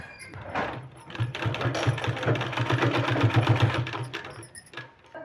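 Sewing machine stitching a folded fabric strip onto a sleeve, a steady rapid mechanical whir running for several seconds close to the mic, alone without talk.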